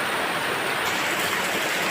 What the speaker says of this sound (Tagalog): Inday-inday ang ulan.